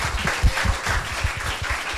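A live audience applauds at the close of a discussion on artificial intelligence, a dense, steady patter of clapping hands that lasts the full two seconds at moderate volume, without any voices.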